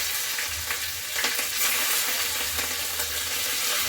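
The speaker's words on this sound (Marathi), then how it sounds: "आणि सर्वात शेवटी यामध्ये कडीपत्ता टाकून घेऊया आता आपला हा तडका तयार आहे" A tadka of cumin, green chilies and curry leaves crackling in hot oil, giving a loud, dense, continuous sizzle with brief popping bursts.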